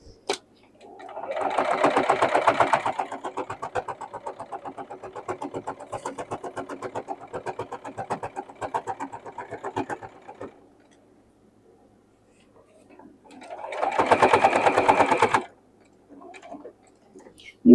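A sewing machine stitches tiny fabric scraps in a long rapid run of about ten seconds, then pauses and gives a second short burst, loud and close.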